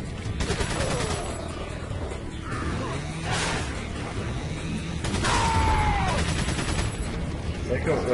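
Gunfire in Resident Evil 4 Mercenaries, heard as repeated close gunshots in uneven bursts over game noise, with someone talking throughout.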